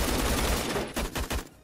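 An RPK machine gun in the Roblox game Phantom Forces fires a rapid burst of shots, then a few spaced single cracks, moderately loud and close with no talk.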